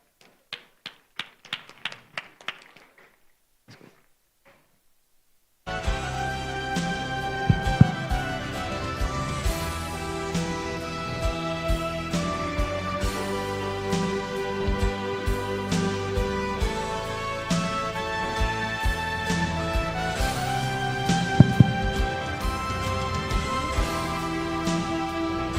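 Sustained, dense audience applause fills a school annual day hall after a few seconds of scattered taps and near-silence, loud and continuous to the end, with a couple of sharper bursts.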